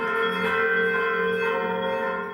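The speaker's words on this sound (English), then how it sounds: "these 50 bells ring out in defining moments of Ukrainian" The bells of St. Michael's Golden-Domed Monastery in Ukraine ring together in a dense, sustained peal of overlapping tones, steady and full throughout with no talking.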